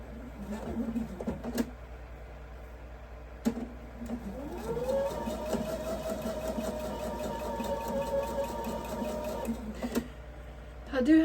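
Sewing machine stitching a Flying Due South quilt block with the needle set one notch off center, running steadily for about five seconds between short bursts and quieter pauses, with a brief low voice near the end.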